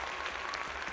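A faint, brief round of applause used as a sound effect in a security camera review, a soft continuous patter of clapping with no talk over it.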